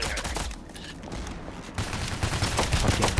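Sniper fire in a heist shooter comes as dense, continuous crackling gunfire with rapid overlapping reports, fairly loud and building slightly toward the end.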